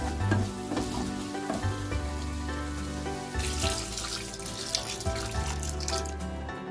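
Water pours into a pan of sizzling snail curry, a gushing splash over hissing oil with a steady low tone beneath, continuous and close.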